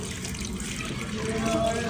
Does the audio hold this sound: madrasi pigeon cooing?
no